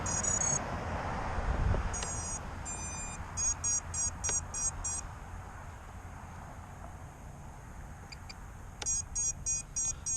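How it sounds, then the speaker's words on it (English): Bursts of high-pitched electronic beeps from a drone's beepers after disarming repeat in quick rhythmic runs over a steady low hum and faint wind-like background noise. "when you disarm it, the beepers go off"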